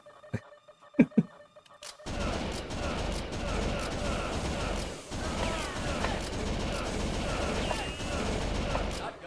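Gunfire from the arcade shooter Virtual Cop 2 on Sega Model 2 hardware, a few sharp isolated shots at first, then a dense, continuous barrage of loud blasts and game effects.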